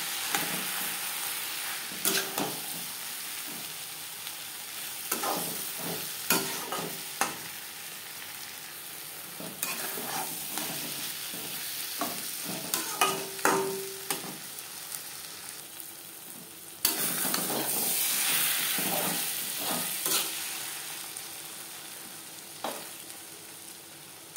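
Silver carp roe and fish oil frying in a pan over high to medium flame, a continuous sizzle broken by repeated clanks and scrapes of a spatula stirring, with a louder hiss surge partway through.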